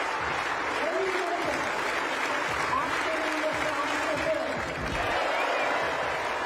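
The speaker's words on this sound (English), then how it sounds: "Listen to the crowd building the rhythm for Mikkola." Large home stadium crowd at a women's U20 high jump final claps and cheers steadily for a favourite jumper, a dense continuous roar of applause with some voices mixed in throughout.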